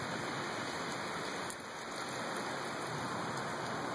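Steady rain falling during a rain shower, a dense, even hiss of drops on surfaces that stays constant throughout, with no voices.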